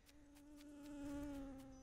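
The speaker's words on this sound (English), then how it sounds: "No, it's a paper wasp" A paper wasp buzzes in the farming video game Dinkum, a faint, steady insect drone with a slight swell in pitch and loudness, heard alone for under two seconds.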